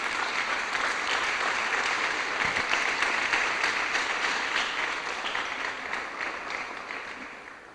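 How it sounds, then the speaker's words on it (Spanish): A church congregation applauds during a Spanish-language evening sermon: a steady, dense wash of many hands clapping at moderate distance, holding evenly before fading slightly at the end. "Denle un aplauso al Señor esta noche"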